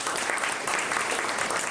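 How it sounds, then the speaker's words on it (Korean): An audience at a 2013 disability sports policy workshop in Gyeongbuk applauds during an award presentation, a steady, dense wash of clapping sustained throughout at even loudness. "축하의 박수를 부탁드립니다"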